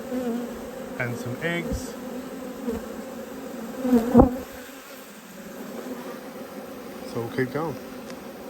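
Honeybees buzz steadily during a beehive inspection, a close, continuous drone with individual bees whining louder as they pass near, while a person talks over the sound.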